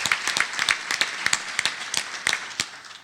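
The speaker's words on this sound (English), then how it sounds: "I'd ask that we give him another round of applause" A conference audience gives a round of applause, with distinct individual claps standing out crisply over a thinner, uneven patter from a moderately sized crowd.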